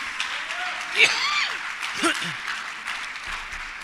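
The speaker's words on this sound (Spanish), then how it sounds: "Dele fuerte esa ofrenda de palmas al Señor." A church congregation claps loudly in praise, a continuous wash of hands, with shouting voices and exclamations rising above it.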